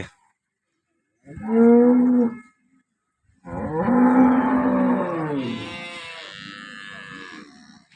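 Cows moo several times, long low drawn-out calls close by, one short and then a longer overlapping pair.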